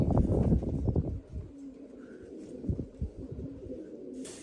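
Pigeons coo in low, throaty bursts near and fairly loud at first, then softer repeated coos with faint chirps and rustling in the background.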